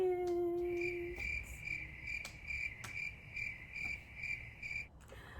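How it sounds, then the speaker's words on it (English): Crickets chirp in steady, evenly spaced pulses, a bright sustained trill repeating close by and alone, with a few quiet clicks and faint background noise underneath. "Crickets"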